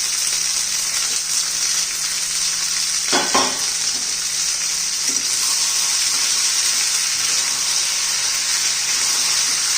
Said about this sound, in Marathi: आता आपले गवार वाटाणा परतून घ्यायचे.